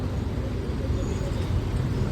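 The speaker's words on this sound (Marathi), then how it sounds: "फुल ट्रॅफिक आहे, फुल ट्रॅफिक." Dense traffic near a petrol pump on a busy workday makes a steady low roar of idling and passing engines, close and unbroken for a couple of seconds.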